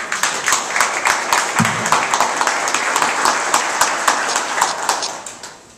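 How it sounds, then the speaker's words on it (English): A crowd applauds at an event honoring women of distinction: many hands clap at a fast, fairly even rhythm, sustained and moderately loud throughout. "clap a little harder"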